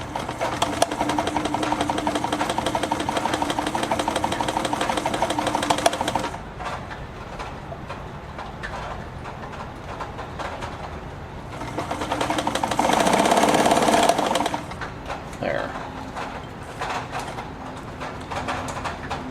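A Brother Opus 211 sewing machine stitches in a fast, steady mechanical chatter, loud and near, then stops and gives way to a quieter whirring stretch and lighter handling sounds.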